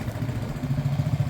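A Hanway scrambler motorcycle engine idles while warming up, a steady low rhythmic putter close by with no voices.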